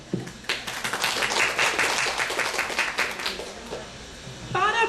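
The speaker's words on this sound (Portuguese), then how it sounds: "Uma calorosa salva de palmas." Warm audience applause during a lecture-style presentation, dense steady clapping filling most of the clip before fading toward the end, where a voice begins to speak.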